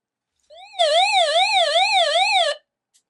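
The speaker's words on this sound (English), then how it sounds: "So that flashes the light and has a siren sound there." SOS mode of a Nitigo emergency radio flashlight with solar and hand crank, sounding a loud electronic wailing siren that warbles rapidly up and down for about two seconds, then cuts off abruptly.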